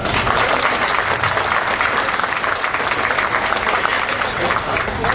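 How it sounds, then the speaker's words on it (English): An audience applauds a senator at a campaign kickoff event, with steady, dense clapping from a large crowd that holds at an even, loud level throughout. "Can we give this amazing man a round of applause?"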